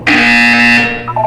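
A flat, steady electronic buzzer from the video game Portal 2 sounds once for about a second, loud and alone, with a faint trailing tone after it cuts off.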